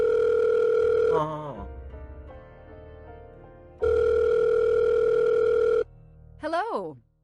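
Telephone ringing during a call in the Murder on the Orient Express video game, with two long, loud electronic ring bursts separated by a quieter pause and a brief spoken murmur.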